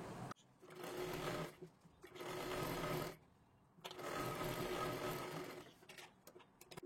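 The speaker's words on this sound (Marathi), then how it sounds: "इथे एक पूर्ण व्यवस्थित आपल्याला शिलाई करून घ्यायची आहे" Sewing machine stitching a blouse sleeve fabric: three bursts of rapid, steady whirring stitches close by, separated by short pauses, with no talk.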